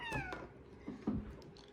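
A house cat meows twice in quick succession, then gives a lower, drawn-out third call, close and fairly quiet indoors with nothing else sounding.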